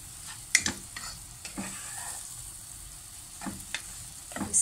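Semolina roasting in butter and oil for helva, heard as soft sizzling under intermittent scraping strokes of a spoon stirring the pan, close and fairly quiet, with no voices.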